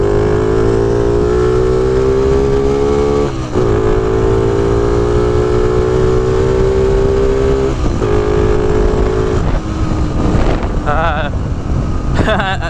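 A Honda C90 motorcycle fitted with a 110 engine is ridden along, its engine droning steadily with slight pitch shifts and a dip at gear changes, loud and close under heavy wind buffeting.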